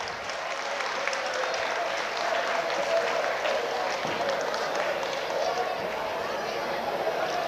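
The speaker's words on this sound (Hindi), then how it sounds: "जोरदार तालियों से स्वागत करें।" Audience at a school annual day celebration in Varanasi gives loud, sustained applause welcoming the chief guest, a broad even roar of clapping with crowd murmur underneath.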